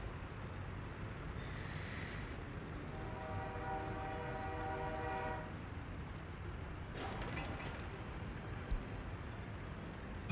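A uranium freight train in a Soviet-era city-building game rumbles along under a continuous rushing noise, with a short high whistle, then a longer low horn blast, and a brief clatter later on.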